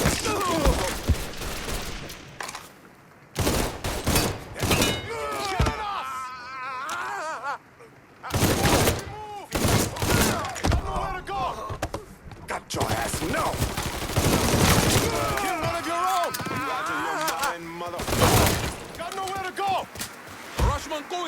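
Gunfire in Mafia 3, bursts of shots loud and close, interleaved with shouting voices and game chatter.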